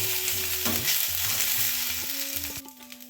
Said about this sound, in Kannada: ಇದೆಲ್ಲ 1-2 ನಿಮಿಷ ಫ್ರೈ ಮಾಡ್ಕೊಳ್ಳೋಣ ಚೆನ್ನಾಗಿ